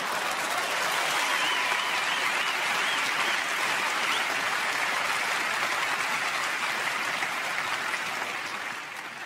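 A comedy show audience claps in loud, dense applause that fills the room steadily and without a break, fading only slightly toward the end.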